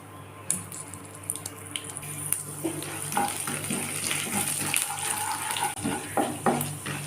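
Mustard seeds with urad and chana dal tipped into hot oil for a red poha upma crackle and hiss steadily up close, with scattered sharp pops and no talking.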